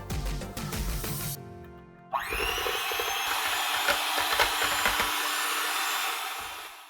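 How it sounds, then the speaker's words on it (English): A hand mixer whips cream with cinnamon in a bowl. After a brief start-up, its steady, high-pitched electric whir runs continuously, close up and with no talking. "And I have a hand mixer. And we're just going to mix away for 3 to 4 minutes until whipped cream consistency."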